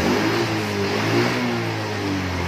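Yamaha Mio scooter engine, after a fuel pump repair, revving steadily up close with a continuous droning hum and slight swells in pitch, no voices.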